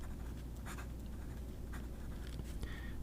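A Majon B25 fountain pen with a fine nib scratches softly across paper in short, quiet strokes, close up and alone against a steady low hum.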